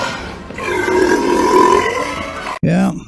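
A 2024 Dodge Charger Daytona with a Fratzonic exhaust lets out a loud, close, droning burp that swells and holds for over two seconds before cutting off, followed by a brief lower rumble.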